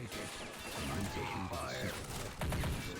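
Chaotic gunfire and crashing impacts from the Army Men of War video game in a dense, cluttered mix, with a sharp burst of rapid shots near the end. The whole mix is fairly faint, and voices are heard under it.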